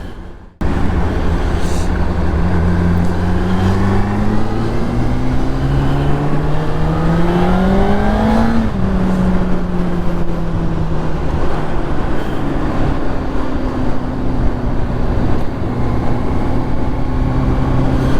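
A Honda CBR 600 motorcycle engine runs loud and close throughout, pitch climbing steadily as it revs up, dropping back, then holding a steady hum.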